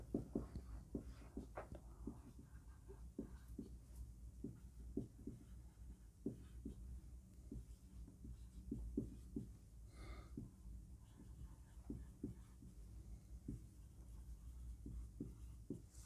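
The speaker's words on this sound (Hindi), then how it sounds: "मैं यहाँ लिख रहा हूँ" Pen or marker writing by hand during a trigonometry lesson, with a steady run of soft, quick scratching strokes and taps, faint and close, with no talk over it.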